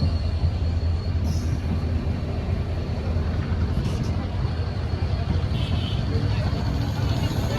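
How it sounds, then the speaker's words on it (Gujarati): A steady, loud rumble of a train rolling along the rails as it arrives at a station, with brief high wheel squeals cutting in now and then. "ટ્રેન આવી ગઈ છે બનારસ વાળી, નેપાળ જવા માટે"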